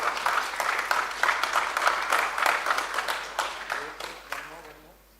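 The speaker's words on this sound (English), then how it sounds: "Can we have a big round of applause for the..." An audience at a governance summit applauding, a dense patter of many hands clapping at full strength before thinning and fading out.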